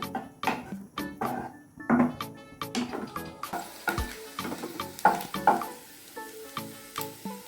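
Chicken pieces frying in hot oil in a home kitchen for egg chicken noodles, crackling and sizzling with repeated sharp clatters of stirring, fairly close and steady with no voices.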